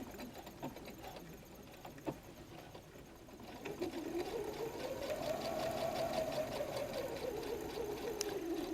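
A sewing machine runs a straight stitch through a messenger bag with an open toe foot, its motor whirring steadily and rising slightly in pitch after a few seconds of quieter handling, alone and close.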